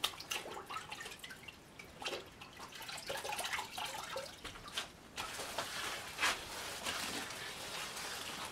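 Water drips and splashes irregularly against an old house wall being wetted with a rag, with wet slapping and trickling sounds, close and fairly quiet, no talking.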